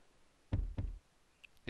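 Two sharp, hollow knocks on a door in the PSX game Clock Tower, close and loud against near silence, followed by a faint tick.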